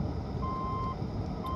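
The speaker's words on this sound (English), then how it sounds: "Sorry about that beeping. That's really annoying." Reversing beeps from a vehicle backing up outdoors, two steady electronic tones heard over a constant low rumble, moderately loud and not far away.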